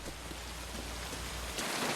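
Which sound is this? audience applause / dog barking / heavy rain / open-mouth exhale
heavy rain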